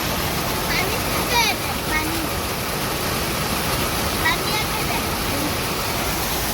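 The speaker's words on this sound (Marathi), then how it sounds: "नदीचं पाणी" Rushing river water pours over a weir during heavy monsoon rain, a steady, loud, broadband roar filling the whole stretch, with faint voices now and then beneath it.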